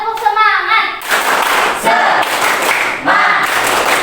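A classroom of children performs a rhythmic spirit clap, a burst of dense, loud group clapping in patterned beats following a short spoken count, with brief pauses between clap phrases.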